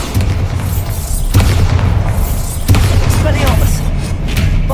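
Repeated booming blasts from the Bombarda spell in a Harry Potter video game, three loud hits spaced a little over a second apart, with a voice talking over them.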